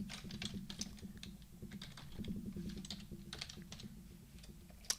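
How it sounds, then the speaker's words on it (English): Rapid, uneven clatter of keys on a computer keyboard as search keywords are typed, close and fairly quiet, running steadily for about five seconds with no voices. "So, we can type in our keywords."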